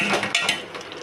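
A ladle scrapes and clinks against a metal cooking pot of payasam in quick stirring strokes, close and clear.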